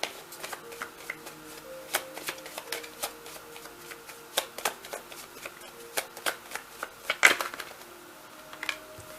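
Tarot cards are shuffled by hand in a scattered series of soft, crisp taps and flicks, close and quiet, with one sharper snap near the end.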